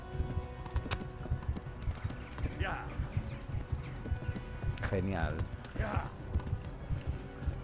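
In Kingdom Come: Deliverance, a horse carrying its rider gallops with a fast, steady clip-clop of hooves, close and continuous, with a couple of brief whinnies and someone talking over the hoofbeats.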